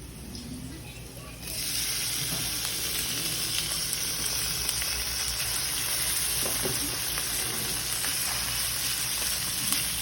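Meat drops into a pan of frying onion and garlic, and the gentle sizzle jumps to a loud, steady hiss that continues close up throughout.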